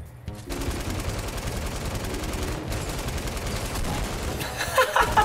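Rapid automatic gunfire from a battle royale video game rattles in dense, continuous bursts, a near, steady stream of shots with brief gaps and sharper reports toward the end.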